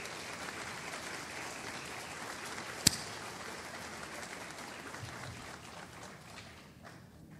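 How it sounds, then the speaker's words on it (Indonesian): Audience applause welcoming Dr. Greg Evans at a Dead Sea Scrolls seminar, steady moderately distant clapping from a crowd, fading slightly toward the end. "Let us welcome him and give him applause."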